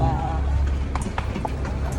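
Horse hooves clip-clop on a night street in Alcúdia, Mallorca, as a horse-drawn carriage moves through traffic; a few distinct hoof strikes sound close under continuous talking and street noise.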